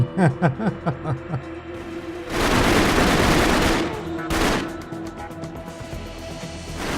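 A grenade blast in an esports shooter video game, a sudden broad roar after a run of rapid gunfire bursts, the explosion rumbling loudly for about two seconds before more shots and a second, shorter burst follow.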